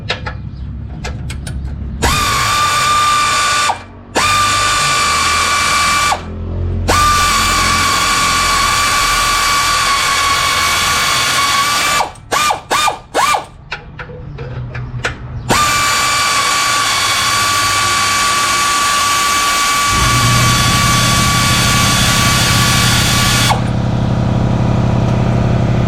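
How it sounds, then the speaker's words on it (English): An air ratchet strains to break loose a nut on a 2003 Honda Civic during a catalytic converter replacement, a loud, close, whining pneumatic drone in several long runs separated by brief stops. "let's see if I can bust that loose with that air ratchet again"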